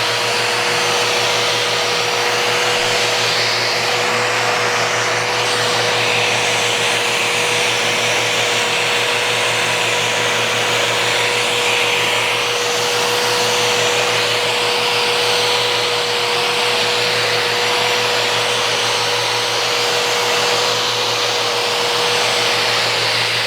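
A power sander works a surface from 40 grit down to 150 grit, a steady loud whirring drone with a constant hum, running continuously and alone with no talking throughout.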